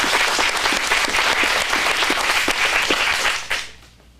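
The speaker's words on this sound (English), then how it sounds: "get a round of applause." An audience at an adult acting studio's script showcase applauds in a sustained burst of dense clapping that fades out quickly at the end.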